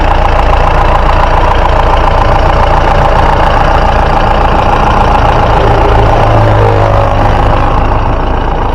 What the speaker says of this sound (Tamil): வண்டியோட இன்ஜின் சவுண்டை அமைதியாக கேளுங்க